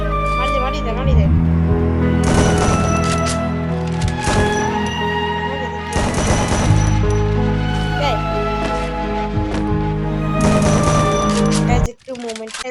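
Gunfire in the mobile battle royale game Free Fire: repeated rapid bursts of shots that come and go over steady game sound, with a voice talking over the action.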